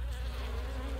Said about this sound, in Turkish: Şu an arı çalışıyor